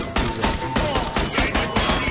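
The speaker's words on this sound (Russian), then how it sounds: "почему я стреляю, но не попадаю?" Rapid automatic gunfire in the PUBG video game, a steady run of close, evenly spaced shots in quick rhythm, loud and continuous for about two seconds.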